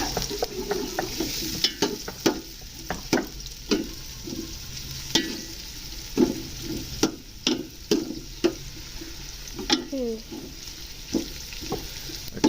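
Onions fry in ghee for Shinwari chicken karahi, a constant crackling sizzle broken by frequent sharp spoon clanks and scrapes against the pan as they are stirred.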